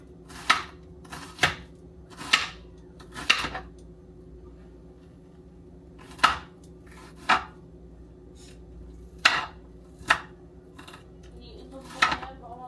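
An onion being chopped with a knife on a board: about eight crisp, close taps come in irregular bursts of two to four, with quiet pauses between them.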